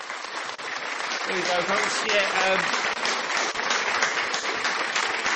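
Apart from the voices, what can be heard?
audience applause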